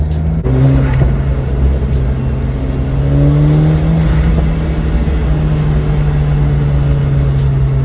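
Modified K04-turbo Volkswagen GTI fitted with twin intercoolers and a lightweight pulley, its engine droning loudly and steadily with rising revs and tire noise, while any turbo blow-off whoosh stays buried in the continuous roar.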